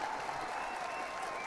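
Brief applause on a podcast, a dense, even patter of clapping from a small group that lasts about a second and a half.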